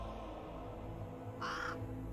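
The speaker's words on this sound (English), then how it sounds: "Oh, there's a bird." A crow caws once, moderately loud and drawn out, in the fantasy video game The Waylanders, rising over a steady low ambient drone.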